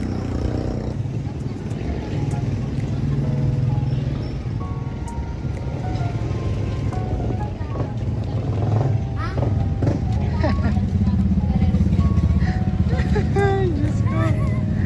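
A motorcycle ride with a steady engine drone and road rumble throughout, close and fairly loud, while people chat over it.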